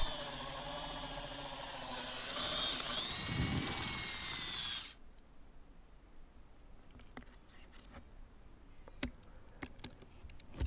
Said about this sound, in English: Then I took my drill, placed it at my mark,